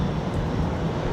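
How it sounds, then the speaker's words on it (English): Qantas Boeing 787 taxiing out at Brisbane Airport, a steady distant low jet rumble with no clear change over the short stretch. "The 787 is on the move, so Qantas 51 now taxiing out"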